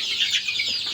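Native chickens on a small backyard farm at night, a brief burst of soft clucking and chirpy calls close by, quiet and unaccompanied by talk.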